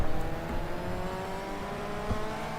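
A 1999 JGTC race car in the video game GTR 2 holds a steady, sustained engine drone while cornering at Twin Ring Motegi, loud and continuous with no talk.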